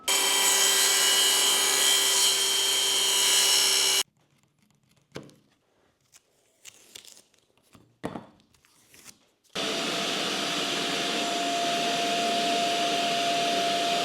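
A track saw makes two loud, steady cuts through a basement wall panel for an outlet opening, each a sustained whine lasting several seconds, separated by quieter handling noises and shuffling.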